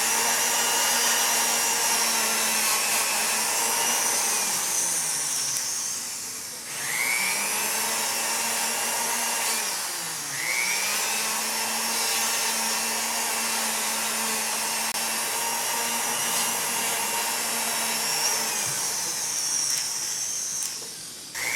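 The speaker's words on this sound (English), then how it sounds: "Hang on tight because the motor moves fast." A fast polishing motor spins a flexible muslin buff with a steady high whine. It dips briefly twice as the buff loads against the work, then holds its pitch.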